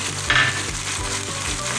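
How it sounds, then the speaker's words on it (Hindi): Ginger garlic paste sizzles and crackles in a hot pan while cooking chicken karahi, a steady frying hiss with a brief scrape of stirring, close and alone. "अदरक लहसुन का पेस्ट डाल रहे हैं।"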